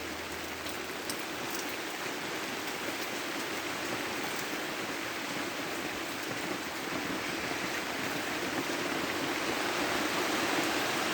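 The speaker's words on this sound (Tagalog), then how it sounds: "umuulan kasi. Ang lakas eh." Steady, heavy rain pours down continuously, a dense broadband hiss of drops hitting surfaces, building slightly louder toward the end with no voices.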